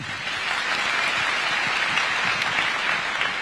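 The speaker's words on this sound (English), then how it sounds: "Another round of applause for His Excellency." A seated audience applauds after a speech at a formal engagement event, giving dense, steady clapping throughout at a moderate distance.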